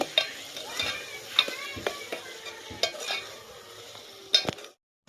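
Spices with turmeric being fried and stirred in a pan: a quiet sizzle under irregular scraping strokes and utensil clicks, close by, ending abruptly.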